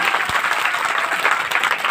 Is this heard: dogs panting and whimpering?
no